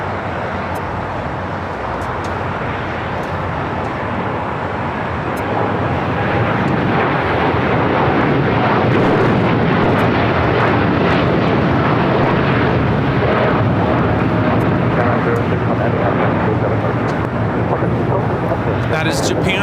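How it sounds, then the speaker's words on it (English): A Japan Airlines Boeing 787-9 Dreamliner takes off at LAX, its jet engines building into a loud, sustained roar that swells and holds as the aircraft accelerates, heard from a distance with broad rumbling noise. "That is Japan Airlines Flight 61 taking off to Tokyo Narita on a 787-9 Dreamliner"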